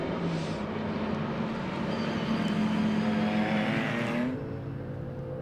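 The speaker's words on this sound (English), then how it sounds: "So into the pit lane has come Warren Gilbert." A GT race car entering the pit lane at Donington Park, its engine note droning loud and steady with a rising pitch, then cutting off sharply as it passes.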